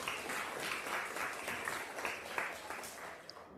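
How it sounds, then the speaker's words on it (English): Keynote audience in a conference room applauds at an early Saturday morning session, a steady wash of clapping lasting a few seconds at moderate level, fairly distant. "Give yourself a round of applause for showing up."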